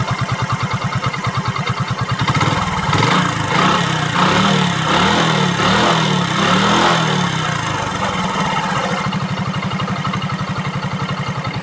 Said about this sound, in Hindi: इंजन की आप साउंड सुने